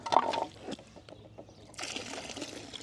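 Water trickling and gurgling as a pool vacuum hose fills from the return jet of a swimming pool, a soft close splash at first, then a steadier hissing flow toward the end.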